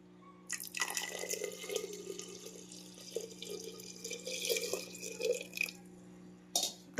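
Water is poured into a pot of mustard greens being cooked in a rustic home kitchen, a steady trickling splash lasting several seconds over a constant background hum, with a brief pause and a final splash.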